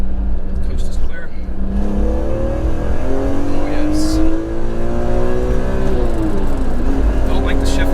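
A rare, lightweight BMW sports car accelerating hard along a twisty road, the engine note climbing through the gears in rising revving sweeps, heard loud and close from inside the car, with a brief spoken exclamation.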